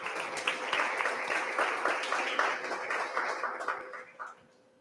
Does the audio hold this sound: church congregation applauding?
yes